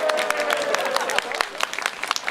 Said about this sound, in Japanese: 拍手してみてください